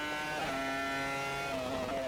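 A Renault R25 Formula One engine driven in Assetto Corsa holds a high, steady whine with a slight pitch rise and dip, loud and continuous with no talking.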